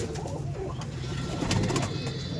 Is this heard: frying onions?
no